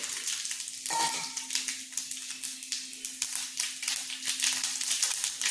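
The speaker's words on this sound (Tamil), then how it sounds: "எண்ணெய் சூடாக இருக்குது கடுகு உளுந்தம் பருப்பு காஞ்ச மிளகா சீரகம் போட்டுக்கிறேன்" Mustard seeds, urad dal, dried red chili and cumin crackle in hot oil for a tiffin sambar tempering, a bright, dense sizzle of rapid pops that keeps going steadily near the mic.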